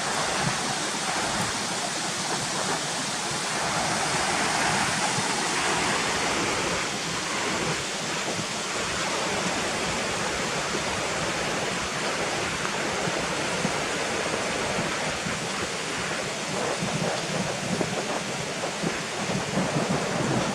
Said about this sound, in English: Love this sound of the water running down over the white water rapids